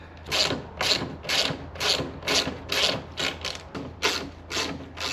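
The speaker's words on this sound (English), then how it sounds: "Make these two bolts loose a tiny bit." A ratchet wrench loosens bolts on the rear shock mount of a Can-Am Spyder F3. It gives close, crisp bursts of clicking at a steady rhythm, about two per second, with no talk.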